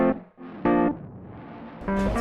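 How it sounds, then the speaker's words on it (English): Eventide Mangledverb reverb-delay effect on an iPad, its delay time swept so that bursts of harmonic, distorted tone smear and shift in pitch, fading into a murky wash between loud swells. "As it changes the delay time, you can actually hear it changing."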